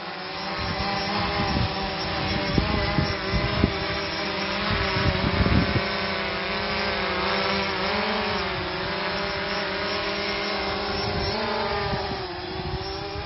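A camera drone lifts off with a steady, loud high-pitched whine of spinning propellers, the pitch shifting slightly as it climbs and hovers, with no voices.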